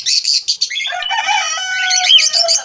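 A cockatiel calls with a run of bright, chirpy whistles and harsh squawks, close and fairly loud, continuous over a few seconds with no voices.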